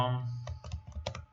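Several quick keystrokes on a computer keyboard while typing in Microsoft Word, soft irregular clicks under a quiet voice talking.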